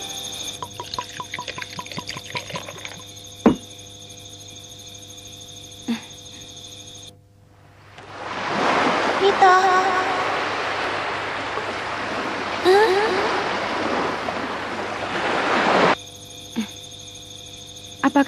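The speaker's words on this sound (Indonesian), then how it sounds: "Sesuai perkiraan, laut pun mengganas, lalu perahunya terbawa ombak." Rough sea waves surging in a dubbed anime scene, a broad rushing swell rising after a stretch of steady cricket-like tones and lasting several seconds before cutting off abruptly.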